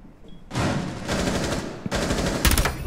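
Rapid automatic gunfire in Rainbow Six Siege during a bomb-defusal round, a sudden loud burst of fast shots that continues after a brief break, ending with a few sharper, louder cracks.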